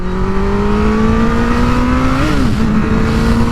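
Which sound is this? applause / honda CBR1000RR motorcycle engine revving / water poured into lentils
honda CBR1000RR motorcycle engine revving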